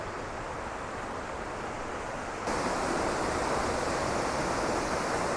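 Creek water rushing over rocks off-trail on the Piney River, a steady broadband wash that grows a little louder partway through, with no voices.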